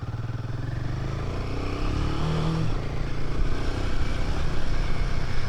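Royal Enfield Himalayan 450 motorcycle on the move, its engine droning steadily and building slightly in loudness over rough, bumpy ground, heard up close with wind and road rumble and no talking.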